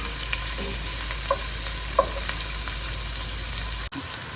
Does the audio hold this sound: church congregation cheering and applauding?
no